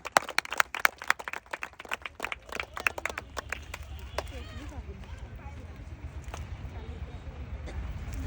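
An outdoor crowd at a village game event claps together in quick, uneven bursts that stay loud for a few seconds and then thin out into a busy murmur, with a voice talking over them.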